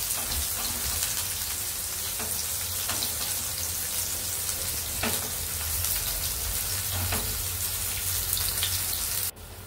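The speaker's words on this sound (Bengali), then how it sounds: "সেই জন্য একটু কড়া করে উচ্ছেটাকে ভেজে নেব" Bitter gourd pieces frying crisp in hot oil in a home kitchen, a steady soft sizzle with occasional sharp crackles and pops, fairly faint and without talk.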